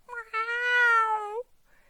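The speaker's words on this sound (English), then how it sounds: "she belted out the loudest meow Otis had ever heard" A single loud, drawn-out cat meow, close and clear, rising then falling over about a second before fading into quiet.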